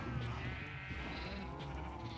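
Sheep bleat repeatedly in a Polish farm-building video game, close and clear, several wavering calls over a steady low in-game background.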